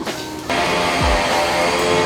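A card payment machine in a car workshop whirs and buzzes mechanically, like a receipt printer feeding, loud and close, a short steady motor sound that shifts in tone halfway through.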